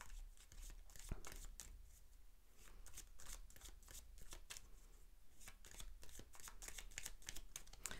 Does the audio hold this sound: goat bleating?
no